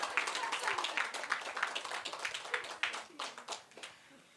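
An audience at a family well-being panel discussion claps, a sparse patter of individual hands that thins out and fades toward the end, with a faint murmur of voices underneath.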